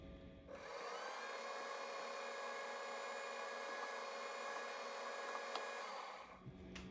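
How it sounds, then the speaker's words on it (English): A drill bores a half-inch hole into a small engine oiler part for a six-cycle engine: a steady, even mechanical whine starts abruptly, holds for about five seconds, then winds down and stops. "I'm going to drill in here approximately a 1/2 inch."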